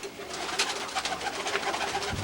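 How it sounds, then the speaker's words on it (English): Young squeaker pigeons in a loft give soft repeated coos and murmurs, several birds overlapping at close range, quiet and steady over a couple of seconds. "Just kind of looking at Mr. Jaconette's birds here. The loft squeakers."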